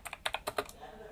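Quick, quiet clicks from a faulty computer keyboard, about eight close keystrokes in an uneven burst, heard up close in a quiet room.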